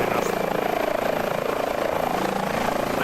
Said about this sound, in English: we'll jump back in the helicopter